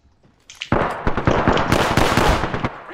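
Gunfire in a video game, a rapid burst of loud, close shots rattling on for about two seconds after a short quiet lead-in.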